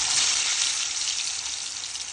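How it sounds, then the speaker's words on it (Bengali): Battered pumpkin leaf fritters, made the Tangail way, frying in oil as a loud, even hiss that holds steady close by, with no voices over it. "বন্ধুরা দেখো, পাতাগুলি এখন আমি একে একে ভেজে নিব"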